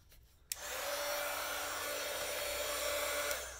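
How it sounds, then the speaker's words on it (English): After a sharp click, a Heidi Swag embossing heat tool starts and blows with a steady, loud whooshing hum that runs unbroken for about three seconds, with no one talking. "make sure that your heating tool is hot before you try to do this"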